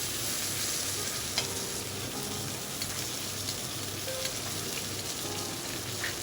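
A steak sizzles steadily in a hot pan while melted butter is spooned over it, a continuous close crackling hiss with small pops and no voices.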